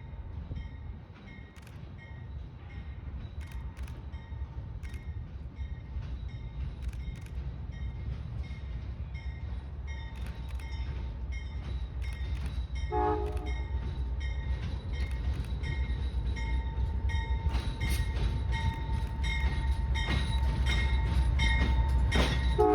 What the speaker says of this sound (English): found myself trackside only 5 minutes later, with a solo P42 locomotive approaching